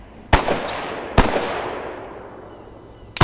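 Grenades exploding in ArmA 3, three sharp, loud blasts spaced over a few seconds, each one fading into a long rumbling decay.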